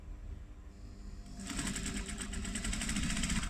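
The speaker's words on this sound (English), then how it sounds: "I'm going to top stitch with quite a big stitch on the faux leather there" A sewing machine top stitches faux leather with a large stitch, starting after a short pause and then running as a steady, rapid, close mechanical whirr and clatter, with no one talking.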